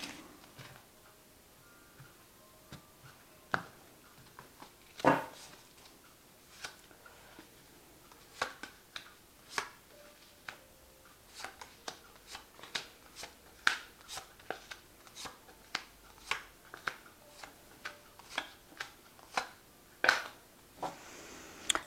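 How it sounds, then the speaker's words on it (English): Quiet, close shuffling of a tarot deck: soft riffles and scattered ticks and slaps at an irregular pace, with no talking. "So I have shuffled this deck."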